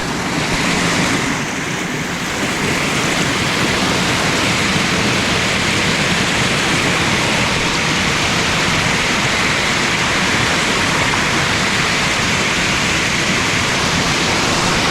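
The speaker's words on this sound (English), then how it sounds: "And there's a waterfall coming down" A waterfall roars continuously nearby, a dense, steady rush of falling water that fills the whole scene.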